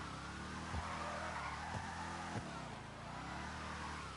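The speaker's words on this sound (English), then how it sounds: "You do small drift circles, bigger drift circles. With the e-brake, with the front brake." A car in a GTA drift mod slides in circles using the e-brake, its tires squealing in a continuous skid over a steady engine roar, with a few soft thumps and a slowly wavering pitch, loud and with no talk.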